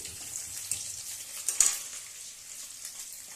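Egg curry cooking in a pan, a soft continuous sizzle with a few sharper crackles and pops near the middle, close and fairly quiet, no talking.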